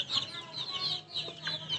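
Young chickens about two months old cluck in a run of short, close, fairly loud calls over roughly two seconds, with no talking.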